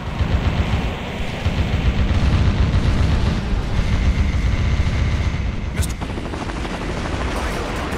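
A loud, continuous helicopter rotor roar in the video game Metal Wolf Chaos XD dominates, joined by a booming impact partway through and a brief voice.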